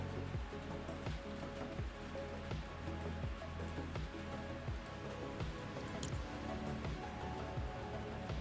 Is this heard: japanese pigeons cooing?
no